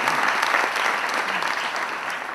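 Audience applauding at a cultural evening in an Italian city, a dense, continuous wash of clapping from many hands that stays loud throughout and fades slightly toward the end.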